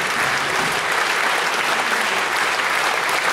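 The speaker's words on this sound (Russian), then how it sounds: "Спасибо большое, дорогие друзья, за ваши аплодисменты" Steady, full applause fills a concert hall after a children's choir performs at a New Year and Christmas concert, continuous and even throughout.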